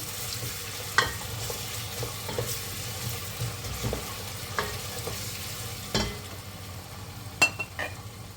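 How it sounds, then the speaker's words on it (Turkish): Onions and carrots sautéing in a pot, a low steady sizzle broken by occasional scrapes and clinks as a spoon stirs them, with no talking. "Güzelce havuçla sotelensin."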